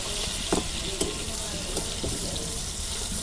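Pointed gourd slices fry in oil in a pan with a loud, dense, steady sizzle, and a few soft scrapes of a spatula stand out.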